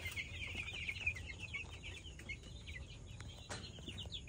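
Young broiler chickens, about eleven days old, peep and cluck faintly in a pen at bedtime, a quiet, steady stream of small overlapping calls.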